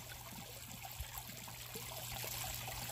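Water from a gutter runs through a homemade gold sluice, a steady, faint trickling and splashing flow with some water washing out the sides, continuous and without talking.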